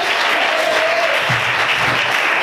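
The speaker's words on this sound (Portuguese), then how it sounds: "Você pode aplaudir o Senhor e adorar a Deus por isso" A church congregation applauds during an evangelical worship service, a dense, steady wash of clapping that fills the whole stretch at full loudness, with a faint voice briefly audible beneath it.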